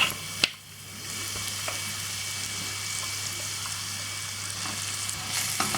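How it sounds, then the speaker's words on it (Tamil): Grated carrot fries in a pan for egg carrot rice, a steady close hiss of sizzling after a sharp clack near the start, with no one speaking. "இது வந்து கேரட் வந்து வதங்குறதுக்கு வந்து ரொம்ப டைம் இருக்காது, அதனால் கொஞ்சம் நல்லா ஃப்ரை பண்ணி விட்டுட்டு"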